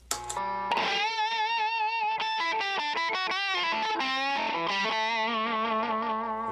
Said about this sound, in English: You can use it as a standalone distortion by turning off the sensitivity, getting sort of that half-cocked wah sound.